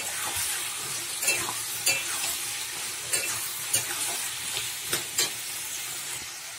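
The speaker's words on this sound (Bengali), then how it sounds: "এবার ভেজে রাখা চিংড়ি মাছগুলো দিয়ে দিচ্ছি" Fried prawns go into cooking bottle gourd in a pan, with a steady low sizzle and repeated scraping stirs and light clinks of a spatula on metal, close and unvoiced.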